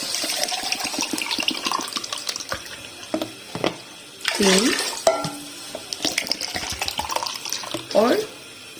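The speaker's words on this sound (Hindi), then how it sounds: "अब इसमें पानी डाल दूंगी।" Water is poured by the glassful into a pot of separated basmati rice for tikka biryani. Close splashing pours come in bursts with light pot clatter while a woman counts aloud.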